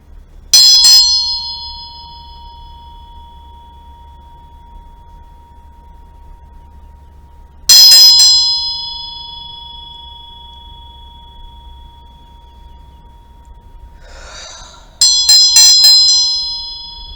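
A small ringing bell struck three times to clear energy before a tarot reading, each strike a bright, clear ring with a long sustained tone that slowly fades in a quiet room.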